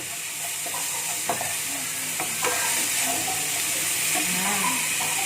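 Beef liver sambal goreng hati with tamarind and spices is stirred in a frying pan, a steady close sizzle with a few scraping strokes rising over the hiss.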